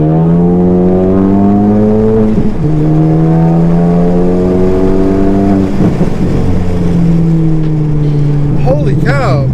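Turbocharged big-turbo Ford Focus ST accelerating hard, a loud, close engine note climbing steadily through gears with brief dips at shifts, while voices talk over it inside the car.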